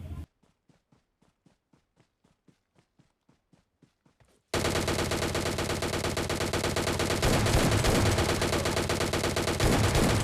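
PUBG Mobile Lite gunfire: a run of quiet, evenly spaced single shots, then a sudden loud stretch of dense automatic fire and explosions that fills the rest of the clip.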